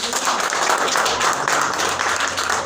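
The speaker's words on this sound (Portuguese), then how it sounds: "Dê uma salva de palmas para o nosso Deus." A church congregation applauds at a service for consecrating evangelists, a dense steady wash of clapping throughout.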